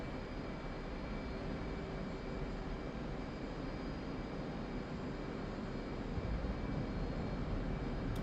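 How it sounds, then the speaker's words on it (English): An F-14 Tomcat's afterburner in the flight sim DCS World, a continuous broad roar with a steady hum beneath it, unchanging and fairly distant throughout. "The afterburner that you hear back there"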